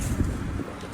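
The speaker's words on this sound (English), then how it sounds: "Windy as shit." Strong gusty wind buffets the microphone with a low, rumbling roar, steady and close.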